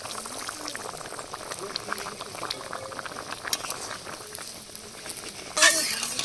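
Fish curry broth with taro boils steadily in a pot, a continuous close bubbling and simmering. A brief louder splash or hiss comes near the end.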